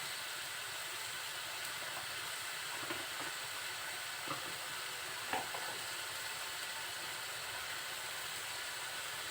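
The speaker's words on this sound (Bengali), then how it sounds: "অল্প পরিমাণে ধনিয়া গুঁড়া দিয়ে মশলাটা খুব সুন্দরভাবে কষিয়ে নেব" Spices with coriander powder, turmeric and chili powder sautéed with fish roe in a pan give a steady, soft sizzle and hiss throughout, with a few faint clinks of stirring.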